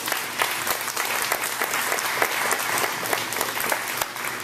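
Steady, dense applause from a church congregation during a Spanish-language sermon in Amarillo, Texas, a crowd clapping loudly and continuously throughout without pause.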